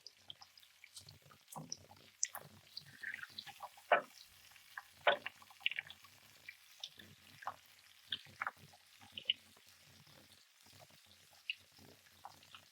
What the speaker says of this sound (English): Now let's see if it's time to flip them and let it brown on the other side.